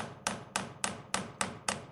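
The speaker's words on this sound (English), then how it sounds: "use the flat side of the hammer," The flat face of a forging hammer strikes silver wire to flatten it, six crisp, evenly paced metallic taps, close and distinct with no voices.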